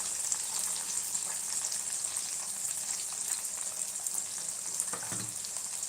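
Tomatoes cooking with salt in a pan give a loud, continuous sizzle and crackle, with a few scrapes of stirring and a heavier knock near the end.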